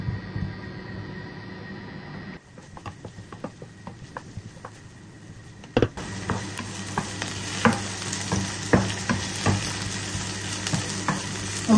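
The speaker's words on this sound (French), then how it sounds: "Ensuite, je dépose les oignons émincés et je vais les laisser revenir quelques minutes." Sliced onions frying in olive oil, a continuous sizzle that grows louder after the first seconds, with repeated light taps and stirring scrapes against the pan, close and steady, no voices.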